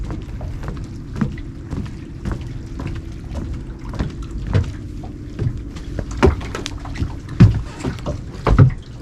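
A C-Dory boat moves across the water with a low steady hum, the hull knocking and splashing at irregular intervals, close and fairly loud with no talk over it.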